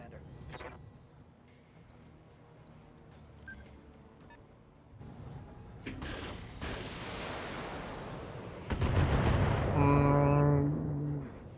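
Salvos of missile fire in the BattleTech mech combat game, a rumbling wash of launches and impacts that swells into a louder roaring barrage toward the end, with a voice talking over it.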